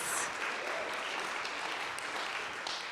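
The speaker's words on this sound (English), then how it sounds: "give Corey another, or just a round of applause" An audience gives a round of applause at a talk, a steady wash of many hands clapping throughout, moderately distant and with no voices over it.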